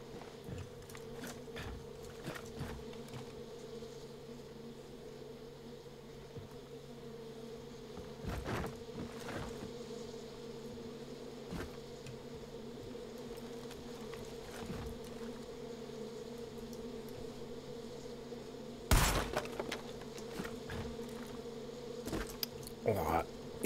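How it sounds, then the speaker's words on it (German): Bees buzzing in the video game Far Cry 5, a steady droning hum that runs throughout at moderate level, broken by scattered clicks, thumps and a louder burst near the end, with no talking. "Und warum sind da nochmal Bienen?"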